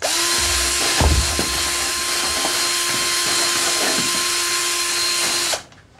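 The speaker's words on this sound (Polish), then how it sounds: "I wkrętarką sobie to teraz mieszamy, żeby nam się to ładnie połączyło." A cordless drill whirs at constant speed for about five and a half seconds while mixing strawberry protein boilie bait for carp, with a few soft knocks from the mix in the container, close by, then cuts off.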